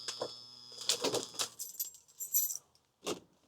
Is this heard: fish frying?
no